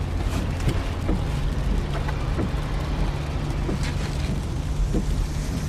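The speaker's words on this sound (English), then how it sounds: "This is the sound of your ride home with Dad after he caught you vaping." Steady low rumble of a car interior on the road, a continuous engine and road drone with faint bumps and no talking, heard from inside the cabin.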